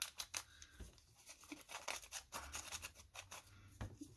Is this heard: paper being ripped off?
yes